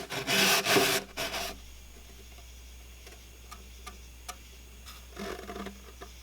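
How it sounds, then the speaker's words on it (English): Sanding a StewMac ukulele kit body with an 80 grit disc: a loud burst of abrasive rubbing on wood for over a second, then faint, scattered scraping and ticking over a low steady hum. "I'm basically going to sand until I don't feel any difference in the height from the side to the edge."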